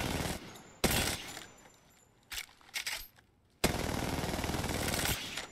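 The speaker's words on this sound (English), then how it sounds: "Look at that shooting." Bursts of rapid gunfire in Apex Legends, several short volleys separated by quieter gaps with small clicks, then a long sustained burst toward the end.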